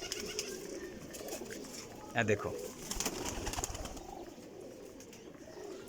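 Pigeons coo softly in a loft, low throaty calls surfacing briefly amid rustling and clatter, with someone speaking nearby.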